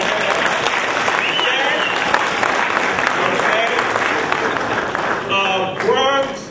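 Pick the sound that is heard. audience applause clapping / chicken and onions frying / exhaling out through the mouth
audience applause clapping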